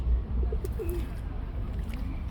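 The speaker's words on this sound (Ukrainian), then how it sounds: "Продолжение видео с голубями." Pigeons coo softly at a market fountain while bathing in the water, a few low burbling calls rising over steady outdoor background noise.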